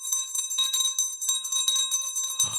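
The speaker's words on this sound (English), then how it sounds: "I'm going to have to ring the bell myself." A small bell rung by hand in repeated bright, ringing strikes at an uneven quick rhythm, each note sustaining briefly, ending with a short clunk.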